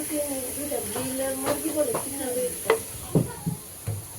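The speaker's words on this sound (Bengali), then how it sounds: "এইখানে কাঁকরোল ভাজি করব" Sliced teasel gourd (kakrol) frying in oil, a soft sizzle with several sharper spatula scrapes and clatters toward the end, while a person talks over it.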